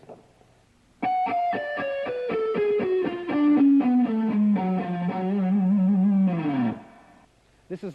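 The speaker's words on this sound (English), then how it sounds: "The fourth part of the riff sounds like this." Heavily distorted electric guitar riff in a shred style, a quick descending run of picked notes after a short pause, closing on a sustained note that drops away into near silence.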